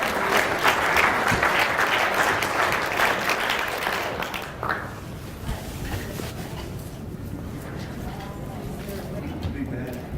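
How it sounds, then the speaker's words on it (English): An audience at a business seminar gives a round of applause, dense clapping for about four seconds that fades into scattered claps and room murmur, with a speaker's voice carrying over it. "Round of applause"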